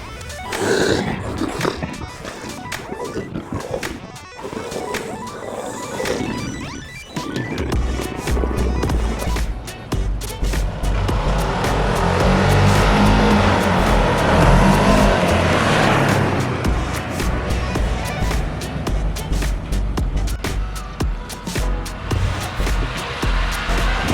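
BRP Ryker and Spyder RTL three-wheeled trikes accelerate hard in a speed test, their engines roaring loud and close, building into a sustained rising howl of revs with wind rush and occasional gear-change dips.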